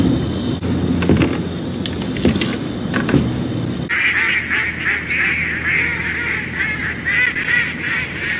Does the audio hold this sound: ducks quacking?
yes